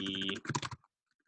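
Typing on a computer keyboard, a rapid burst of close key clicks that stops abruptly and leaves near silence with a few faint taps.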